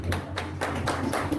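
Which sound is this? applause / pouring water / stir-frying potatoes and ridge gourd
applause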